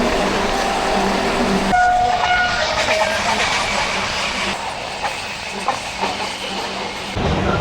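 A local passenger train pulls away from its platform, giving a steady rumble and rattle of railway cars under station bustle, with a brief horn-like tone early on and a faint voice at times.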